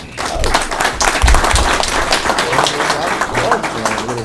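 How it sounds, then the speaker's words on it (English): Clapping from an audience at a union general membership meeting, a loud, dense round of applause lasting several seconds with scattered voices mixed in. "They clapped because it was short"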